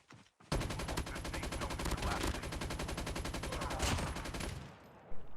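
A fully upgraded pistol fires in COD Mobile gameplay: a loud, rapid, unbroken string of shots lasts about four seconds, then stops abruptly.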